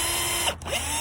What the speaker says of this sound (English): And just start drilling it in